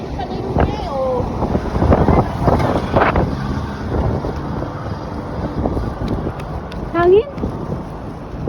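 Wind buffets the microphone outdoors in a steady broadband rush that lasts the whole stretch, with gusts swelling here and there under people talking.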